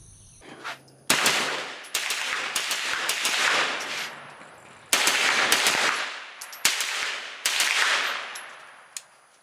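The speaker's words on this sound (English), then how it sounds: "but I'm going to shoot my Wilson Combat." Rapid gunfire from a Wilson Combat AR9 at an outdoor range comes in loud, sharp bursts of shots with short pauses between strings, each report ringing out briefly.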